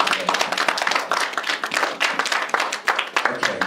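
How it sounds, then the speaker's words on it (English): A crowd gives a round of applause at a graduate award presentation, a dense run of sharp, close hand claps that carries on, loud and uneven, through the whole stretch. "just give a round of applause for everyone that has been helping and supporting today"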